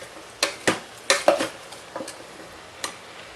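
Ground meat sautés in a mini Instant Pot while it is stirred, giving a few sharp utensil scrapes and clinks against the pot over a faint background sizzle.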